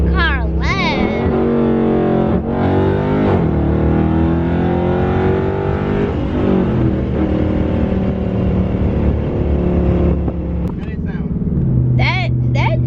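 A 2021 widebody Dodge Charger Scat Pack revs loudly and close by, engine roaring steadily throughout with rising and falling pitch, while people talk over it.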